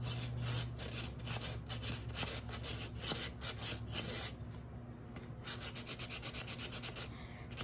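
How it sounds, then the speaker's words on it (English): A resin tray set with terrazzo chips is sanded by hand in quick, rhythmic back-and-forth strokes, a soft close scratchy rasp with a brief pause midway. "Sanding is not something that I'm a fan of doing."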